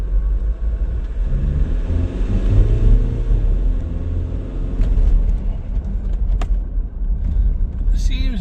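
A 2007 Kia Sorento 2.5 CRDi turbo diesel on a road test drive after a turbo actuator replacement for slow acceleration, giving a steady, loud low engine and road rumble that swells slightly mid-drive and continues throughout.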